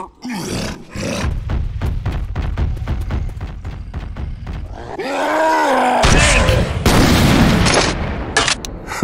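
The Tank zombie in Left 4 Dead 2 lets out deep, loud, drawn-out roars and groans amid pounding thuds and bursts of game combat noise.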